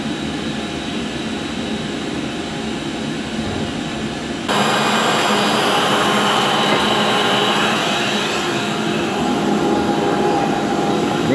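An abrasive blast cabinet runs with a continuous loud hissing roar that jumps abruptly to a harsher, more intense rush partway through, sustained steadily up close without speech.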